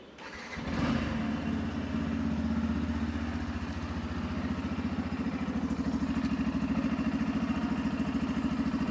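A Yamaha FZ-S 4.0 motorcycle engine starts, then settles into a steady, even idle with a low throbbing hum that continues unbroken, heard close up without talk.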